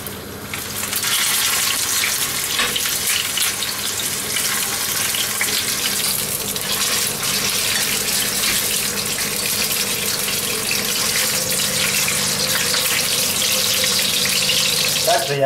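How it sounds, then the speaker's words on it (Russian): Unsalted, unseasoned pork belly pieces frying in vegetable oil in a cast iron pan, giving a steady, dense, loud sizzle that continues without pause from start to finish. "Также я обжариваю второй кусочек грудинки."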